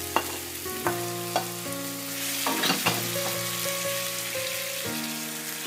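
Fresh tomatoes dropped into a hot pan for pizza sauce give a soft, continuous frying hiss with a few faint clicks, low under steady background music, with no voices.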